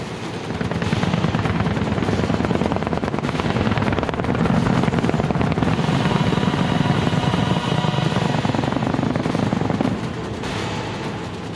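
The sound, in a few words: Apache helicopters flying in formation for firing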